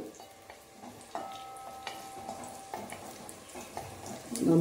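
Curry leaves frying for onion sambar as they are stirred in a pan, with soft sizzling under irregular scraping and clinking strokes of the spoon, close by and growing louder toward the end.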